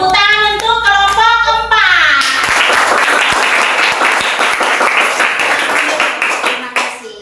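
Classroom students clap for a discussion group during a fourth-grade Christian religion lesson. Dense, sustained applause builds after about two seconds and fills the rest of the clip, with a voice talking over the start.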